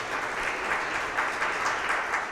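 Fairly faint but steady applause from a live comedy audience, an even wash of clapping with no talk over it.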